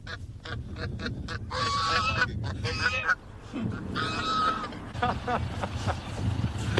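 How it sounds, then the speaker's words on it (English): Geese honk loudly and repeatedly in a rural farmyard as they chase a person, overlapping cries coming in bursts over a rustling background. "Marco gets his geese to chase Gordon."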